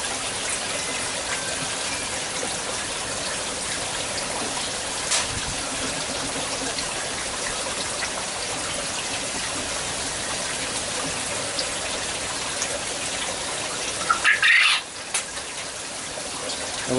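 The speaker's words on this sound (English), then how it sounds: "it causes a siphon, and all the air is draining out. I mean, not air, all the water is draining out by itself." Water drains steadily through an aquaponics siphon with a constant rushing gush, loud and close, ending in a brief gurgle as the flow breaks.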